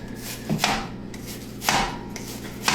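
Half a red onion being cut into medium slices with a knife on a board, a few separate close chops spaced irregularly, each a crisp thud with a short slicing rasp, no voices.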